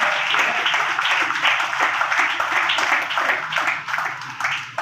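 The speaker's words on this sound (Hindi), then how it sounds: "आपके लिए ये तालियां।" Audience applause at an awards ceremony honouring a student, a dense, steady crowd clapping close by that continues without pause for the full stretch.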